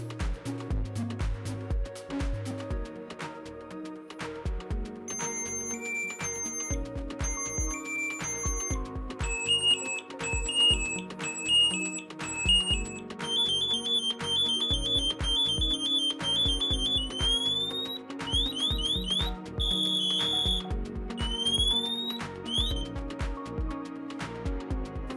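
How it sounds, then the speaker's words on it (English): A Dräger PSS AirBoss Sentinel PASS device on a firefighter SCBA sounds its alarm: rhythmic electronic beeps and chirping tone bursts that grow more urgent, rising into repeated shrill sweeping full-alarm tones, close and loud. "The pre-alarm will start and sound for another approximately 12 to 13 seconds. The full alarm will activate"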